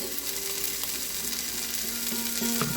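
Garlic, ginger and chili fry in a pan, giving a steady close sizzle under faint stirring and occasional light scrapes of the utensil.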